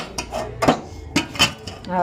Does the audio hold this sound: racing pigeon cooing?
no